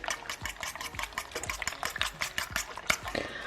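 A fork mashes freshly collected aloe vera gel in a bowl, making a rapid, repeated series of wet squishing and tapping strokes at close range.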